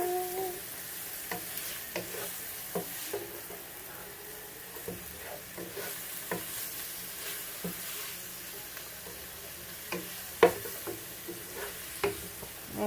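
Greens wilting with salt in a hot pan for garlic shrimp scampi, giving a soft steady sizzle broken by occasional spatula taps and stirs, quiet and close, with no voices.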